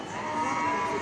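An animatronic dinosaur in a large retail store lets out a short, loud, cow-like lowing roar lasting about a second.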